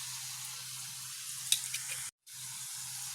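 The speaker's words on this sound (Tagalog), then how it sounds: "Nagprito na nga pala ako dito, guys." Saba bananas frying in a pan give a steady close sizzle of hot oil with a few faint pops, then cut out briefly before the sizzling resumes.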